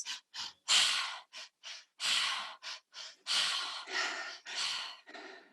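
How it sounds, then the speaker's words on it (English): Forceful breaths drawn in quick pulses and pushed out in long exhales through the mouth, close and loud, in a steady repeating pattern. "the breath pattern that we're going to do is called the tri-active breath"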